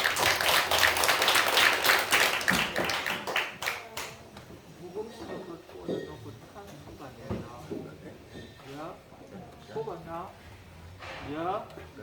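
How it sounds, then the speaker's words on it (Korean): A church congregation claps for a performance during a Korean Sunday afternoon service: a loud burst of applause for about four seconds that dies away as a voice begins to speak. "큰 박수 부탁드립니다."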